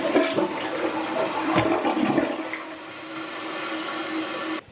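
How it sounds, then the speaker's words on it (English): A household toilet gives a regular flush, a loud rushing gurgle of water draining close by that tapers into a softer trickle as the bowl refills. "So here's a regular flush."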